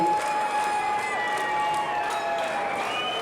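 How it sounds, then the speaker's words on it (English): A crowd at an Appalachian Mountain Wrestling Summer Bash event cheers and claps in a sustained roar, with whistles and shouts rising over the steady noise. "Crowd really hyped up for Summer Bash with Appalachian Mountain Wrestling"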